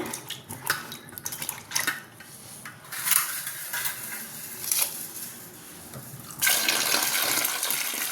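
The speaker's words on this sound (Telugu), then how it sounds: "బాగా వాటర్ పోసి కడిగాం కదా." Bitter gourd gets scrubbed and rinsed in a vessel of water, with repeated clinks and clatter of a metal pot, splashing water, and a steady pour toward the end, fairly close.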